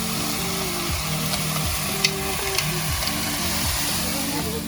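Chopped onion added to chicken in a hot pan, frying with a continuous sizzle and occasional sharp clinks of a utensil, close and steady with a low humming drone underneath.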